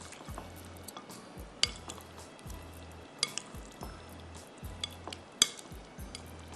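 Creamy methi chicken being stirred in a pan: soft, wet squishing scrapes come in a steady repeating rhythm over a faint sizzle, close and quiet, with no talk.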